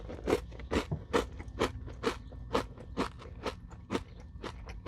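Bites into a Nature Valley maple brown sugar granola bar give close, loud crunches about twice a second, each sharp crack followed by dry crumbly chewing, with no talking.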